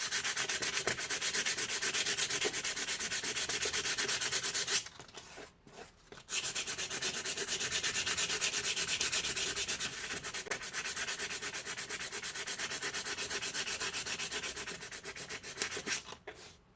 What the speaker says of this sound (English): So when sanding this down, make sure you're really feathering it out